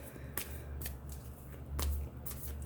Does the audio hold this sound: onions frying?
no